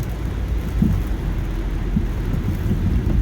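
Heavy rain pours down in a steady, dense roar with a low rumbling undertone, continuous throughout and with no voices.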